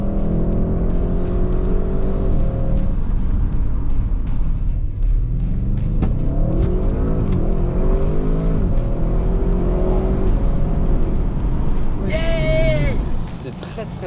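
An Audi RS6 accelerates hard, its engine a loud, rising drone inside the cabin that climbs through the gears, with people talking over it and a short chime near the end.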